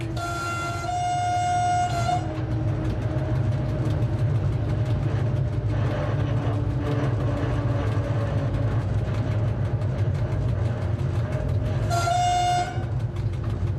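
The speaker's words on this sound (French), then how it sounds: "le rapide Casa-Tanger aborde le pont mixte rail-route de Mechra Belksiri" A Casa-Tanger express train moving at about 40 km/h onto a combined rail-road bridge at Mechra Belksiri, Morocco, with a steady loud rumble of wheels throughout and two sustained horn blasts, one near the start and one near the end.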